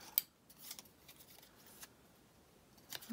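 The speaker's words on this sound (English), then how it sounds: "I have to trim it from the back side." Scissors trimming vintage paper ephemera from the back side, a few quiet, crisp snips spaced irregularly, close and soft against a near-silent room.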